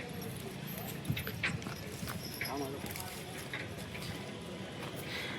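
Horse hooves clop at a horse market in Yeola, with light irregular hoof strikes, mid-distance, over a busy outdoor crowd with people talking nearby.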